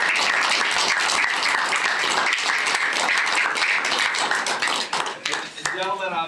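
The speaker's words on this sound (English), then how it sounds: "So, clap it up for that." An audience at a school board meeting claps for student athletes, a loud, dense burst of many hands clapping that fades near the end as a voice begins speaking.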